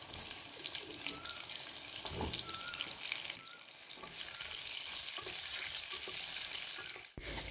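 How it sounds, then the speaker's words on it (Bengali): Pointed gourd (potol) pieces fry in hot oil, giving a steady, close, bubbling sizzle with scattered pops and crackles that runs unbroken, dipping briefly near the end. "গরম তেলের মধ্যে আমরা পটলগুলোকে ছেড়ে দেব, মানে পটলগুলো আমাদের ভেজে নিতে হবে"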